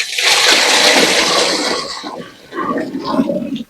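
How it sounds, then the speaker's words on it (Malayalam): Water poured onto fresh cow dung in a container, a loud broad splashing gush for about two seconds that dips, then a softer wet sloshing and bubbling as the flow continues. "ശകലം വെള്ളം ഒഴിക്കണം"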